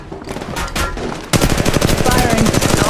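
Rapid automatic gunfire from a shooter match in Apex Legends Mobile, loud and close, with a burst after a quieter stretch that settles into a steady fast rattle of shots.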